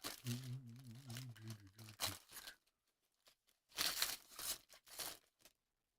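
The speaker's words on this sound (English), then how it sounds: "Let's open some cards." Packs of Bowman baseball cards are crinkled and torn open up close, with bursts of crackling foil wrapper and brief pauses between rips, after a short stretch of faint talk at the start.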